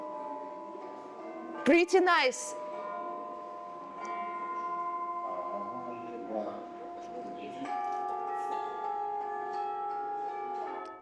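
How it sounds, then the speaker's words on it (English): Bright orchestral tubular bell tones ring out and sustain in layered, overlapping pitches, with a short burst of speech partway through. "You have bells in orchestra, and they sound like this"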